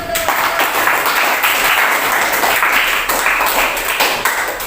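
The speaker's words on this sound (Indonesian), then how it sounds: "Ya, memang sudah benar jawabannya, beri aplaus dulu." A classroom full of students applauds, steady dense clapping that fills the whole stretch at close range with a faint tone at the very start.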